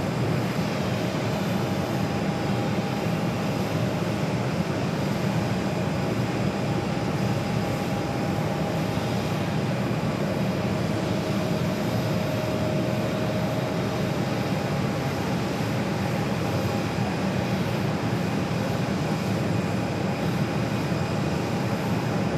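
A Southwest Airlines Boeing 737 on runway 8 at Phoenix Sky Harbor airport produces a continuous broad jet roar that holds steady and fairly loud throughout, with no voices.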